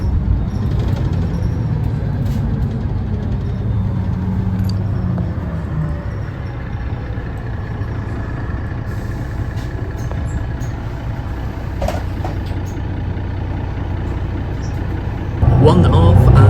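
A bus idles at a stop on the route to Heathrow, its engine rumbling low and steady with faint clatter, and a brief hiss or rise in noise near the end.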